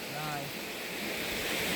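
A Konkan river in spate, running brim-full after a rise in water, gives a steady broad rushing wash with wind buffeting the microphone, continuous and fairly close throughout.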